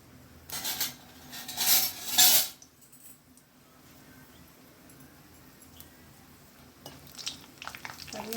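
Spices for white sambar splutter in hot oil, bursting into a few loud crackling, popping flurries in quick succession before dying down to a faint low sizzle.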